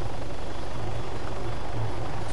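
A helicopter engine and rotor in the video game Arma 3 roars as a loud continuous broadband drone with a low throbbing pulse, steady and close for the whole moment.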